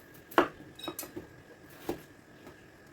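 A knife chopping potatoes into cubes for pork caldereta, a few sharp, close clicks and taps of the blade against the board and dish at irregular intervals, with quiet pauses in between.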